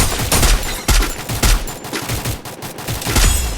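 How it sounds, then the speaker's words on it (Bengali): Loud, dense bursts of gunfire in the Free Fire battle royale game, overlapping shots and rapid automatic volleys tumbling over each other in heavy, continuous waves. "ওই একটা প্লেয়ার আমাকে 3 জনে 4 জনে ফায়ার দিল"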